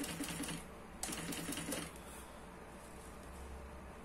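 A sewing machine stitches fabric while making a baby changing pad, running in two short, rapid rattling bursts separated by a pause, then falling to a quiet hum.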